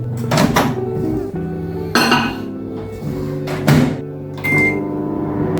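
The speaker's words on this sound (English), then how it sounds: "this noise, that's the microwave." A steady microwave oven hum runs throughout, with a few clinks and knocks of dishes or a door over it, close by.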